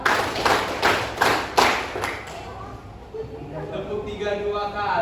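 A group of high school students in a classroom clap their hands together in a counting game, about five quick, sharp claps in a steady rhythm, followed by a teacher talking.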